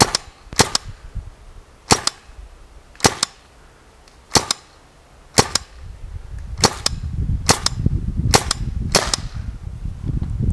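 RAP4 T68 M4 paintball gun fires about a dozen sharp, crisp pops at uneven intervals, some in quick pairs, close up, with a low rumbling background building toward the end.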